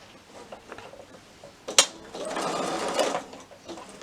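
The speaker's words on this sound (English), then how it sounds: "stitch all the way around there to hold it in place" A sewing machine runs briefly up close, stitching around a small batik wallet, with a sharp click before a steady whirring burst of about a second and a half, then stopping.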